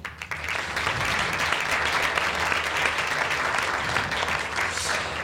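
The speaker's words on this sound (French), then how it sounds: "Hazar Kalatbari, qu'on peut applaudir." An audience at a film festival screening applauds steadily for several seconds as a guest is welcomed, with the dense, even clapping of a seated crowd.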